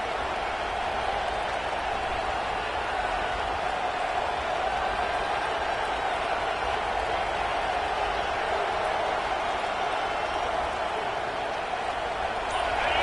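A football stadium crowd roars steadily and evenly throughout, a dense, unbroken wash of cheering noise from a large audience with no pauses or distinct peaks.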